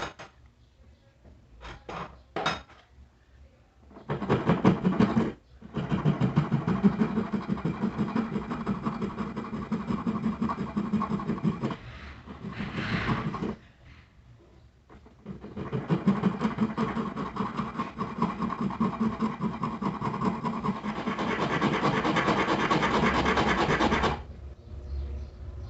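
A file rasps back and forth across the side electrode of a Honda Hornet motorcycle spark plug in long, steady strokes, with several extended passes separated by short pauses.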